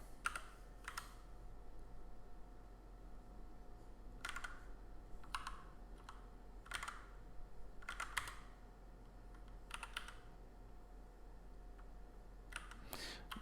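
Keys tapped on a computer keyboard in short scattered bursts of keyboard shortcuts while sketching and inking a vintage car, fairly faint and close, with pauses between clusters and no talking.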